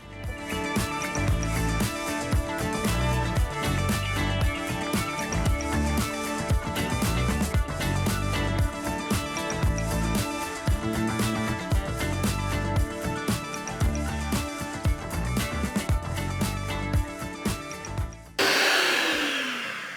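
Steady electric mixer whirring as dairy whipping cream is whipped for an eggless red velvet cake, continuous and close with a rattling texture, stopping abruptly near the end.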